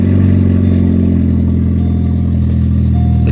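Pontiac G6 engine running at a steady idle after a valve cover gasket and spark plug repair, a loud close continuous hum with a slight shift in tone partway through.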